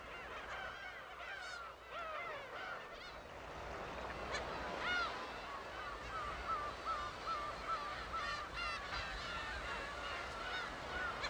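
Gulls and cormorants call harshly and repeatedly in alarm in a busy chorus from a cliff nesting site over a steady wash of surf, with no voices.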